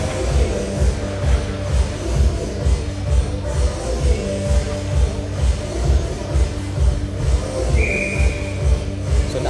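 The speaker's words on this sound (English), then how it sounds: "Look at the whistle." A referee's whistle sounds once, briefly and moderately distant, near the end over the low, rhythmic rumble and shuffle of a college ice hockey arena, Catholic University versus Rowan University.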